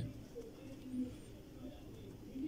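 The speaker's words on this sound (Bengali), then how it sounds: "আমার কবুতরগুলো দেখছেন, এরা সবাই নেমে আসতেছে।" Faint, low pigeon cooing murmurs softly in the background as the birds come down to feed, steady and quiet for a couple of seconds.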